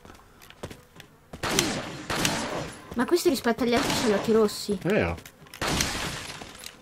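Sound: gunfire in video game Resident Evil 4 Remastered

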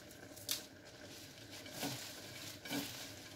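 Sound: mixing vegetables for a summer salad

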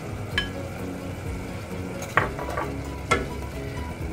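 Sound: vegetables like broccoli added to a pot of keto soup

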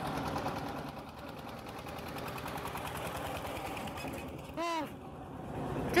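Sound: tractor engine running in countryside

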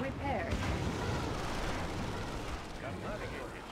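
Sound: explosions in the video game Red Alert 2

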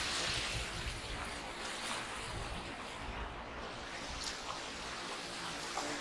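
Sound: water flowing in a canal

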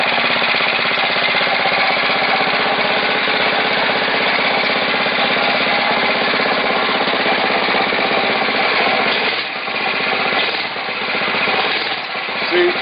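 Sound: Motovox MBX10 mini bike engine running after pull start

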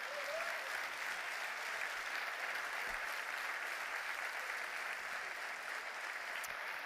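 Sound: audience applause

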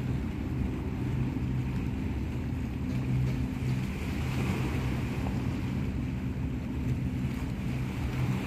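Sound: sea waves at a beach in Greece

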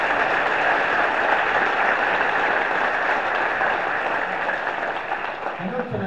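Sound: applause at a senior scholarship ceremony

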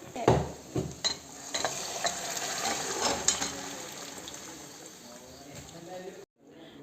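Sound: cooked chicken added to stew masala and stirred in pot

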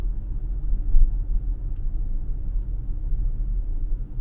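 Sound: car coasting with accelerator released

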